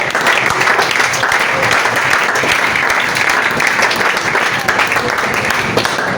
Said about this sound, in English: Zahid Sindhi, clap it loud.